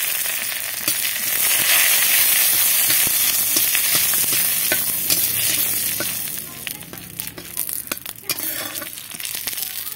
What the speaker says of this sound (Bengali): এই যে দেখুন করে গরম হয়ে গেছে, তেল দিয়ে দিচ্ছি। আমি এই যে জিরে দিয়ে দিলাম